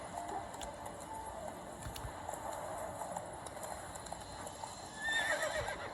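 The horse Roach trots with steady hooves in The Witcher 3, the rhythm running under game music, then lets out a whinny near the end.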